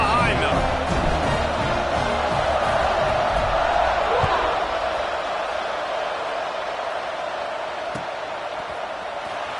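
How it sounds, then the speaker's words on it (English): A college football stadium crowd roars before the kickoff, a broad sustained swell of cheering that fades slightly over time, with a commentator talking over it throughout. "this crowd now ready to get behind them"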